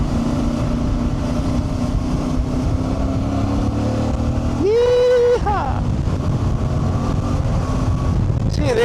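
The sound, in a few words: CFMOTO 450MT motorcycle engine while riding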